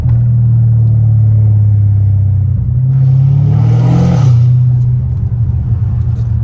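A straight-piped Dodge Challenger Hellcat Redeye idles with a loud, deep exhaust rumble heard from close by, swelling briefly in a short rev midway before settling back to a heavy, throbbing idle.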